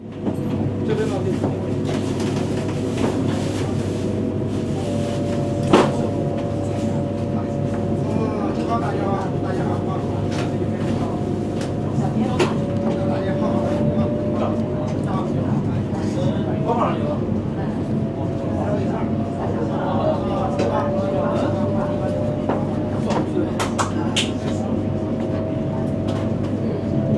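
Inside a Beijing–Xi'an high-speed EMU train in motion, a steady low rumble of running carriages continues throughout, with people talking in the carriage and occasional faint tones.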